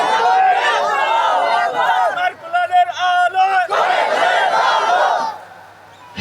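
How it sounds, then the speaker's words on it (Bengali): A crowd of Muslim men at a religious gathering shouts takbir in unison with raised hands, a loud massed chant. It swells, breaks into a few shorter bursts, surges again, then fades toward the end. "দুটি হাত তুলে তাকবীর দিয়ে দেখাও মুসলমান।"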